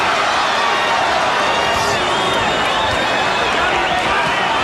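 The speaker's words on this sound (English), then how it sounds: "the Romero partisans in the crowd begin to scream and cheer" Boxing arena crowd of Romero partisans screaming and cheering during a Tapia fight, a loud dense continuous roar filling the whole stretch, with no clear lulls.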